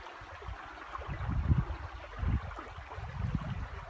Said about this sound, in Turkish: Şu suyun sesine bak.